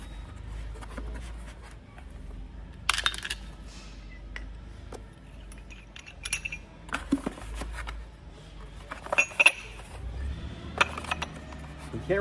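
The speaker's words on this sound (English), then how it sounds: "Now you can take your bottle jack." Metal parts of an Owl off-road bottle jack being handled: close clinks, taps and clunks in irregular bursts over a low background hum.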